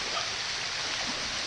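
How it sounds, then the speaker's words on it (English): Tumalog Falls, a waterfall in the Philippines, gives a steady, even rush of falling water, soft and continuous with no voices over it. "Cool waterfall."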